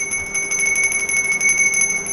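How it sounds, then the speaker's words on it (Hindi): A hand bell rung repeatedly in a steady, fast rhythm, giving bright, sustained metallic ringing tones up close that blend into a continuous shimmering peal. "ये घंटी है। जब हम इसको बजाते हैं,"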